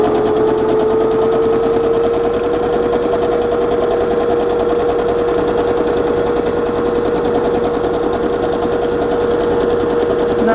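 Loud, continuous machine stitching from a nearby sewing machine running at a fast, even pace through fabric journal pages with ivory thread, a dense rattle with a steady motor whine beneath.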